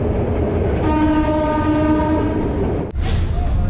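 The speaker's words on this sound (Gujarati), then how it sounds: "જૂનાગઢ શહેર, જેના મધ્યમાંથી અત્યારે તો ટ્રેન પસાર થઈ રહી છે" A train runs through Junagadh city with a steady, loud rolling rumble, and a sustained horn blast sounds for nearly two seconds before a brief dip and the continuing clatter; no one speaks.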